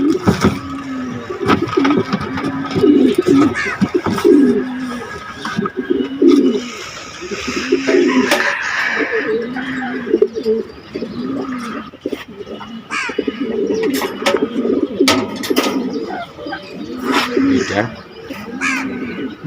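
Pigeons coo in repeated low, throaty bursts close by, with one fully feathered pigeon among them, while someone talks over and around the cooing and other bird calls sound faintly in the background.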